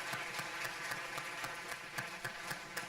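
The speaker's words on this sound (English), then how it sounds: "please help me in giving a very big round of applause to all the startups" Audience applause at a startup demo day, honouring fifteen pitching startups: a steady wash of many hands clapping with sharp claps standing out, moderately distant and fairly quiet, with no voices over it.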